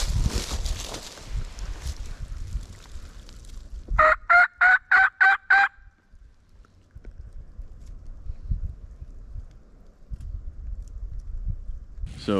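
Wild turkey gobbling during a Maryland turkey hunt, one loud rapid rattling gobble of about six quick pulses, heard mid-clip between rustling and footstep-like thumps outdoors.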